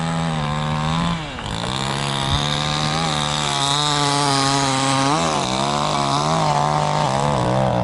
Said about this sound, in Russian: Все дрова пилят